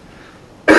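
A person clears their throat with a single short, loud, harsh cough-like burst right at the end, after near silence.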